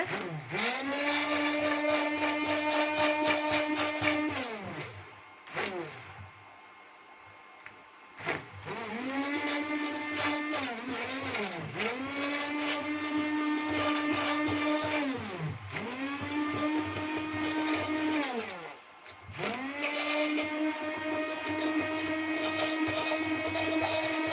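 A blender whirs loudly while mixing a boiled henna lotion mixture, running in several long bursts with short pauses and speed changes between them, with no voices.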